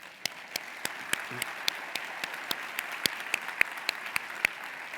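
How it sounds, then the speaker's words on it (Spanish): Sparse, fairly faint applause from a small audience at the close of an agri-food industry expert panel, a soft wash of clapping with a few sharper, distinct claps standing out near the end. "pedir un aplauso para los 3 ponentes"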